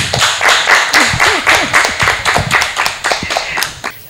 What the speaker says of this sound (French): vous m'avez applaudi, c'est moi qui vous applaudis